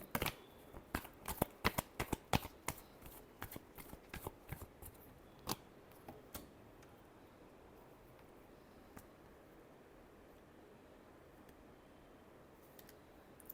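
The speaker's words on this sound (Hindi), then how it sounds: "Last shuffle." Tarot cards being shuffled by hand, a quick run of crisp riffling snaps and clicks in the first few seconds, then a faint, hushed rustle with only occasional soft ticks.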